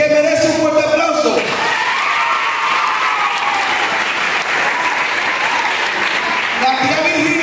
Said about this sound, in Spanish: merece un fuerte aplauso